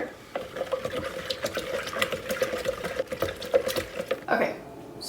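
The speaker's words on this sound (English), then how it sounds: "and then you stir." Sugar being stirred into five cups of water for homemade lemonade, a steady swishing, clinking churn of liquid that continues close and fairly quiet throughout.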